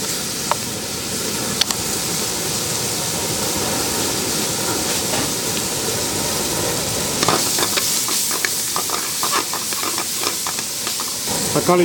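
Ginger garlic paste fries in oil for mutton keema samosa filling with a loud steady hissing sizzle, followed by a run of scraping and clinking stir strokes in the second half; no talking.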